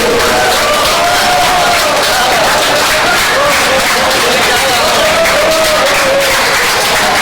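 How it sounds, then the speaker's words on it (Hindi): Audience in a hall at a Hindi Diwas celebration giving sustained, loud applause to welcome an award winner, dense clapping mixed with crowd murmur and hubbub throughout. "जोरदार तालियों से उनका स्वागत कीजिए"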